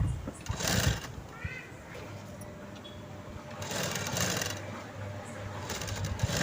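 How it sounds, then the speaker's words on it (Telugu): A sewing machine stitches piping onto the neckline of a blouse in short, close bursts of fast whirring, with quieter gaps between runs and someone speaking over parts of it. "పైపింగ్ పక్కనే స్టిచ్ చేసుకుంటూ రావాలండి"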